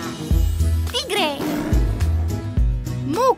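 A voice imitates a tiger's roar in an Italian children's animal dance song, a short growling call over bouncy music with sung voices around it.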